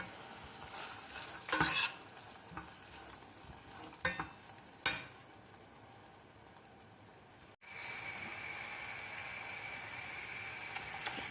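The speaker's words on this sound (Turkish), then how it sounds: "Biraz mercimekleri de kavurdum." Green lentils sautéed in a pot, with spoon scrapes and knocks against the metal at intervals over a soft sizzle, then a steadier, brighter frying hiss for the last few seconds.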